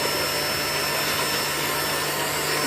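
An electric mixer beats biscuit batter for kisses biscuits, giving off a steady, loud whirring motor drone that holds constant throughout without any talk.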